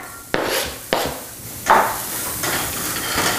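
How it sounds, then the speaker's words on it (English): Onions and garlic drop into a hot saute pan with a few sharp, close scrapes and clatters, and a steady bright sizzle builds and holds beneath them, fairly loud, with no talk. "I'm going to take these onions and garlic and drop them right into this hot saute pan here"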